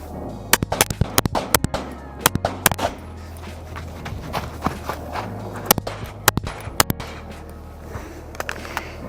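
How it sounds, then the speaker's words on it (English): Nine pistol shots fired during USPSA shooting practice, sharp cracks in uneven bursts across the clip, some doubled in quick pairs, with faint rustling and footsteps as the shooter moves between positions. "that was 9 shots"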